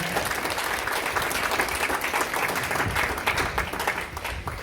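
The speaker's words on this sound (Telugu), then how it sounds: "ఆశ కలిగి ఉన్న వారు ఒకసారి గట్టిగా చప్పట్లు కొట్టండి, గట్టిగా చప్పట్లు కొట్టాలి ప్రియులారా" A congregation at a church retreat in Wafra, Kuwait claps loudly and steadily, a dense wash of applause sustained throughout with no talking over it.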